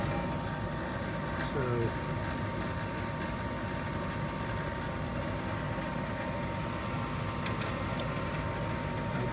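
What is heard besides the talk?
Trane S8B1 gas furnace blower running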